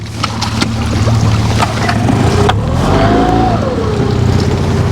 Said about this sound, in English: kill that motor